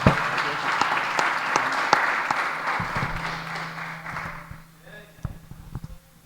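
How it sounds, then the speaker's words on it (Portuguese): A church congregation breaks into loud applause for God during a Portuguese-language sermon, dense clapping that thins and fades toward the end, with a few scattered claps and low voices lingering. "vamos dar uma salva de palmas para o nosso Deus"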